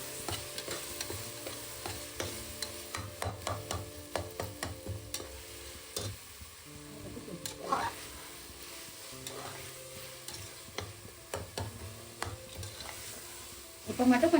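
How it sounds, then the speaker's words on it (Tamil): Ginger garlic paste sizzles in a pan among part-cooked tomatoes, while a spoon scrapes and taps in quick repeated strokes over a steady frying hiss, close and without speech. "இப்போ நம்ம இஞ்சி பூண்டு எடுத்து வச்ச இஞ்சி பூண்டை போட்டுக்கலாம்"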